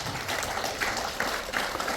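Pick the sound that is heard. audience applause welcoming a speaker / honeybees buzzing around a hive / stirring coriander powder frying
audience applause welcoming a speaker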